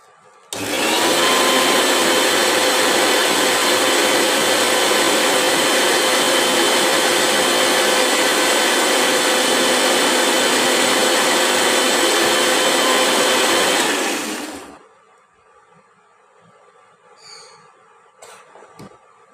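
A mixer grinder grinds poppy seed paste for potol posto, running loud and steady for about fourteen seconds before it cuts off and leaves a quiet room with faint clatter.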